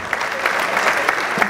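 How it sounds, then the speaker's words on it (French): A festival audience applauds a theatre and comedy workshop group as they stand, a dense, steady wash of many hands clapping together, moderately loud and continuous. "On peut applaudir pour eux."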